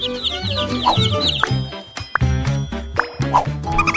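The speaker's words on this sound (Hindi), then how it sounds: "इसे देखो तुम लोग, असली छोटे चूजे, बहुत छोटे और कोमल हैं।" Small chicks cluck and cheep close by in quick bursts of chirping calls, loud and alone, with short pauses between calls over a few seconds.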